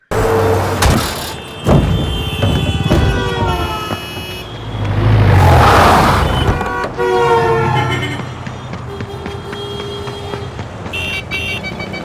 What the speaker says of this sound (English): we used a Doppler effect of the horns of the traffic